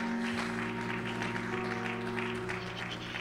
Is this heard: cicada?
no